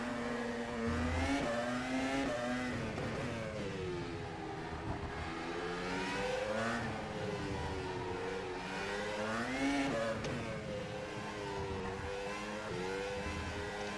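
A Formula Pro race car engine in rFactor 2 at Singapore Bay Circuit screams and whines as it revs up and down through gear changes, loud and continuous without any voices.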